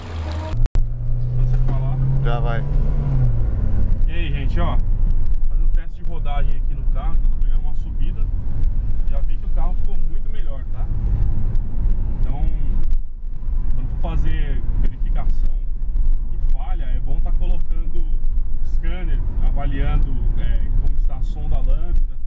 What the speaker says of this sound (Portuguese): Agora a gente vai fazer um teste de rodagem e ver como é que ficou.